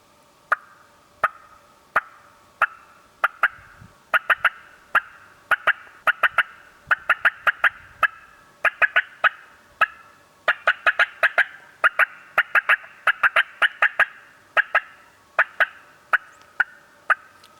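A mouth turkey call imitates hen cutting: sharp, loud clucks in broken, irregular bursts of one to three, close and alone, repeated steadily over many seconds.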